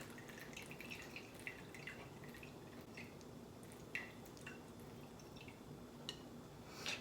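Whey from milk-and-vinegar cottage cheese drips steadily while the curds drain, a faint, irregular series of small close drips over a quiet background.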